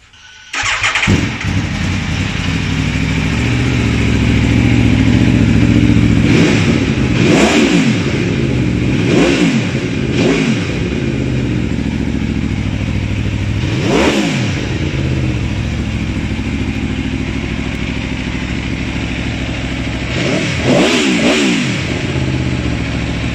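An Aprilia Tuono V4 1100 Factory motorcycle engine cranks and catches, then idles loudly with several sharp throttle blips rising and falling throughout.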